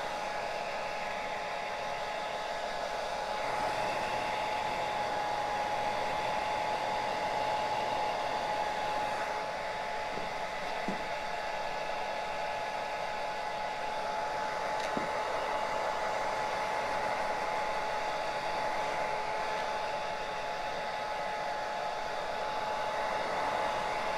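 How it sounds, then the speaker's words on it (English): Hair dryer blowing on a styled cosplay wig, a constant close, steady whooshing roar with a fixed motor whine that runs unbroken throughout, no voices. "hold the very top of it, and blow dry it again."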